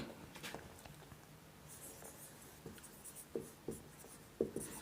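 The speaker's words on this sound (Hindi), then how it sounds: "तो लिखेंगे" A pen or marker writes in a physics class: quiet, close scratchy strokes with a few sharper taps near the end, against a faint hushed room and no speech.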